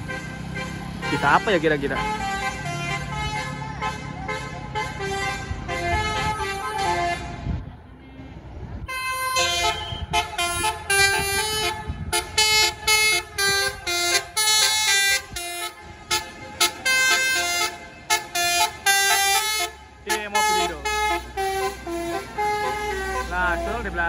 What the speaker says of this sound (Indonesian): Nah, ini ada bus pariwisata, udah kedengeran basurnya nih.